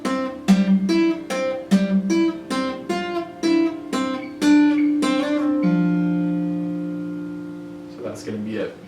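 Plucked acoustic guitar notes of the left hand part of a piece in a steady rhythm, then a held ringing note fading out, close and clear with no talking.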